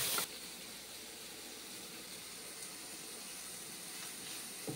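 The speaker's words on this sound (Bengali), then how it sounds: "ভালো করে ফ্রাই করে নিচ্ছি পেঁয়াজ এবং টমেটো" Onion and tomato fry in a pan with turmeric and salt, giving a faint, steady, hissing sizzle that holds evenly throughout after a brief louder rustle at the start.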